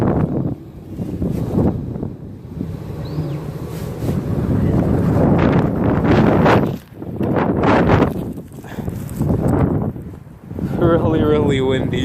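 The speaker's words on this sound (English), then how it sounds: "Really windy" Strong outdoor wind buffets the microphone in a deep roaring rumble that swells and dips in gusts, briefly easing before surging again.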